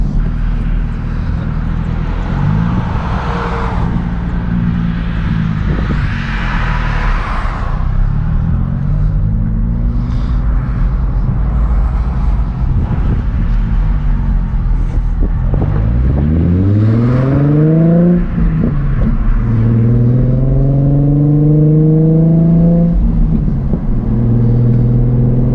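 A Nissan car exhaust roars loudly as the car accelerates hard, rising in pitch through several gear pulls with strong, continuous engine rumble, the tone climbing, dropping at shifts and climbing again.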